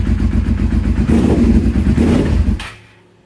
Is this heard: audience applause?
no